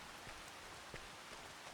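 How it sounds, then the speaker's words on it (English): Steady rain falls in a Farming Simulator 25 farm scene, a soft even hiss with faint scattered drops throughout, with no talking. "I guess we'll figure something else to do until it stops raining here"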